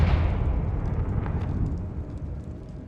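Blasting Confringo spell in Hogwarts Legacy erupts in one loud, broad explosive boom that rolls into a long rumbling decay, with faint crackles scattered above the low roar.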